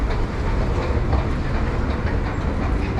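A tram rolls along its rails nearby, producing a loud, continuous rumble and rattling wheel noise that stays steady throughout, with no voices.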